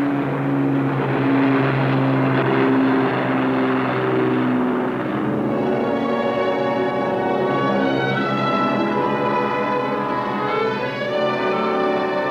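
A propeller-driven water bomber, an Avenger or the giant Martin Mars converted wartime bomber used in British Columbia for forest fire control, drones steadily overhead, its engine pitch shifting midway as it passes, loud and continuous with no speech.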